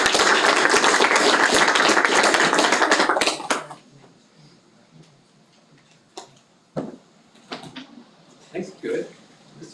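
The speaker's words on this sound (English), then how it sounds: "Just a big round of applause for these kids." Applause for kids at a school board of education meeting, a short burst of many hands clapping that stops after a few seconds and leaves a quiet room with scattered knocks and brief voices.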